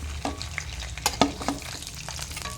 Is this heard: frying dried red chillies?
yes